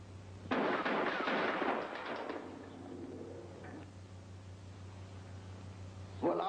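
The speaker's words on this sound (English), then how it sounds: "Well, try it again and keep on firing till you hit." A burst of repeated gunshots rings out close and loud at the start, then fades into a lingering rumbling echo over a steady low hum, with one more sharp report near the end.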